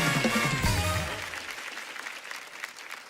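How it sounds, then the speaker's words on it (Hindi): Studio audience on a TV comedy show breaks into loud applause that swells at first, then thins and fades over a few seconds, with music and a voice briefly underneath at the start. "जोरदार तालियां हो जाए एक बार इनके लिए"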